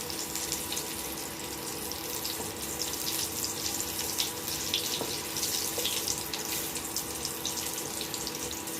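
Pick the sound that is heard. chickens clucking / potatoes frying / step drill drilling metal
potatoes frying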